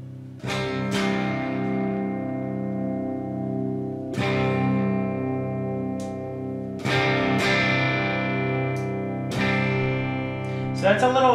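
An electric guitar through an amplifier's clean channel rings out four sustained, strummed chords, each struck firmly and left to ring full and bright before the next, with no talking.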